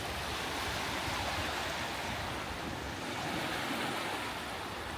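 Ocean surf rolls onto a Cape Cod beach at Dennis, Massachusetts, making a steady, even wash of breaking waves with no voices, soft and continuous from start to finish.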